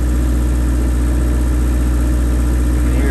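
A generator on a 1992 Wanderlodge runs with a steady drone, humming continuously at an even level, low and constant with no changes in pitch and no voices.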